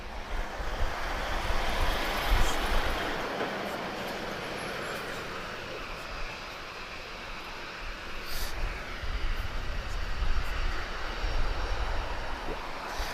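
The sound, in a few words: Emirates Boeing 777 airliner at Lisbon Airport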